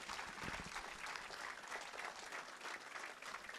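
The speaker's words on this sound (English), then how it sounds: "A big round of applause to Ms." An audience at a keynote panel on entrepreneurship gives a sustained round of applause to welcome the moderator. The clapping is dense, even and continuous throughout.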